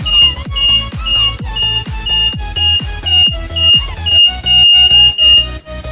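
A WiFi remote motorcycle alarm blares loudly in a repeating electronic siren pattern, rapid pulsing tones with sweeping pitch, sounding alone and close.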